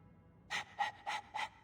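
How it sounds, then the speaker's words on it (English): A dog in the Dragon Age video game pants in four quick, evenly spaced breathy huffs, close and fairly soft, with no other sound around them. "All that noisy dog breath,"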